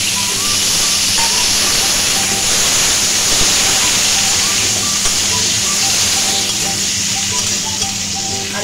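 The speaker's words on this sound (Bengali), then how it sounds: "এবার আমি আলুটাকে ভেজে নেব" Potatoes frying in hot oil in a kadai give a steady, dense sizzle and hiss that stays loud and even throughout, with no pauses or talk.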